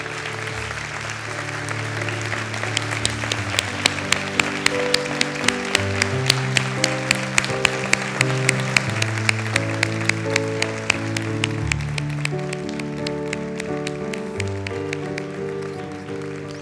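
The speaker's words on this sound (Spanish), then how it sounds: "recibir esta merecidísima ovación" A long, sustained ovation from the audience at a literary awards ceremony, dense steady clapping filling the hall for over fifteen seconds while a piano plays underneath.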